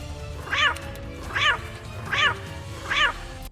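A cat meows four times at an even, steady pace in the video game Injustice: Gods Among Us, each meow clear and moderately loud over a low background hum.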